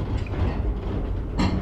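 A train rolls past a closed railway crossing in Kerala with a steady rumble and clatter, and a brief higher rushing burst near the end, no talk.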